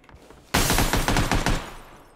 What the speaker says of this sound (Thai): นี่กูลองยิง AK โอ้เออ AK มันเอาเรื่องอยู่ยิงเป็นกลุ่มมากขึ้น